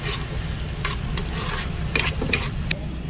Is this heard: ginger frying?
yes